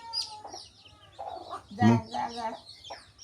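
Chickens cluck in a series of short, fairly close calls at a rural home, with a louder burst midway and quiet pauses between.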